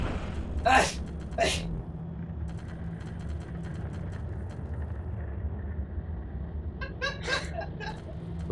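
A character in the video game Assassin's Creed Revelations sneezes twice in quick succession, then a cluster of short sneeze-like bursts follows several seconds later over a steady background hum of game ambience.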